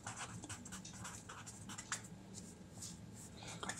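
A pen moves over paper as chemistry notes are written, making faint, close scratching strokes in short irregular bursts against a quiet room, with no one speaking.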